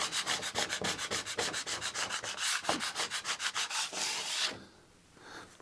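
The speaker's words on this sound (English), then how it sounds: "I'll give it another few wipe overs with a sponge just to get rid of any of it" A sponge rubs back and forth over a workbench to wipe off spray adhesive residue, a quick, steady run of scrubbing strokes that stops near the end, leaving near silence.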